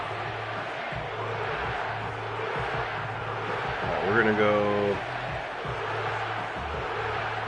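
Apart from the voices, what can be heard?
stadium crowd cheering in Madden 25 video game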